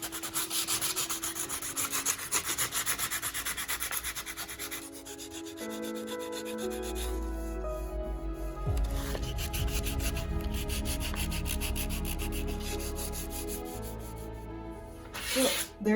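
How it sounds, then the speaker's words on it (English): Sanding filler on an antique city light standard: continuous, close abrasive rasping with steady back-and-forth strokes that shift slightly in pitch and pressure, with no talking. "I'm going to do some sanding here."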